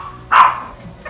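A single short bark from a pet dog in a farm kitchen, close and fairly loud against a quiet background.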